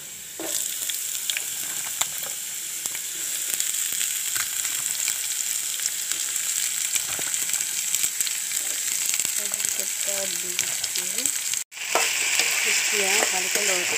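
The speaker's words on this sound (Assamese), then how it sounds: "এতিয়া ভালকৈ মিলাই দিছোঁ তেলৰ লগত" Bottle gourd peel and baby potatoes stir-frying in oil, a continuous loud sizzle with scraping stirs throughout and a brief break near the end, no talk over it.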